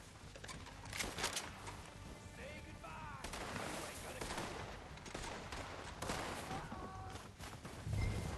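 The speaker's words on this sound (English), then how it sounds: "Why are you still shooting?" Gunfire from the video game Red Dead Redemption 2 crackles as repeated shots and bursts throughout a winter firefight, moderately loud over a busy game soundscape with faint voices.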